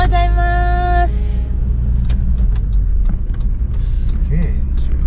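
A Toyota Land Cruiser 77 engine braking: a steady, deep, loud rumble runs throughout, with a brief tonal chime at the start and people talking over it.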